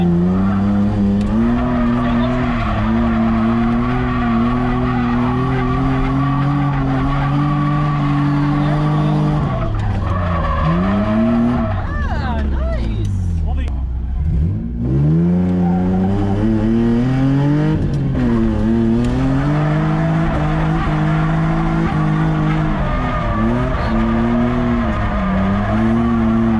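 A Nissan 350Z drifts on a track, its engine revving and swooping in pitch as the tires squeal and skid continuously, loud and close throughout.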